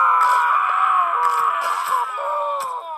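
A Happy Wheels game character screams in a loud, sustained wail with wavering pitch that runs nearly three seconds, broken by faint clicks and thuds.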